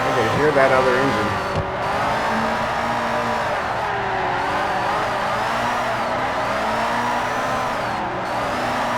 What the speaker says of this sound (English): I can hear that other engine.